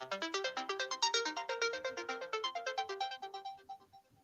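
A mobile phone rings during a panel discussion, a rapid rising and falling electronic melody of repeated notes, clear and fairly quiet, fading out after about four seconds.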